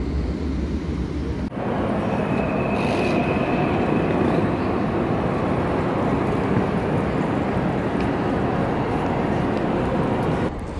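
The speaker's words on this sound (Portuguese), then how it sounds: "Esse daqui é o Ice, trem rápido aqui da Alemanha. Esse aqui tá saindo pra Frankfurt." An ICE high-speed train pulls out of Leipzig Hauptbahnhof, a large German station, bound for Frankfurt. It makes a steady, broad rumbling roar that holds throughout, with a faint whine above it.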